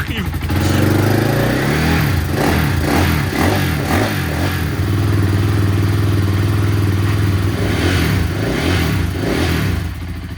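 A supermoto motorcycle engine with stock exhaust idling and revving steadily up close, a rough, loud drone with shifting pitch, with someone talking over it.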